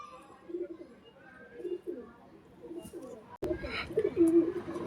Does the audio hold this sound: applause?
no